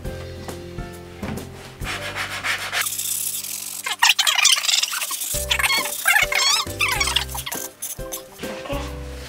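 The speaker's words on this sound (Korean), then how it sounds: "그 다음 사포로 좀 더 갈아줄게요." Sandpaper rubbing over a freshly cut wooden heart-shaped cutting board in a wood workshop, a steady scratchy rasp of repeated strokes, close and fairly loud, with a low mechanical hum in parts.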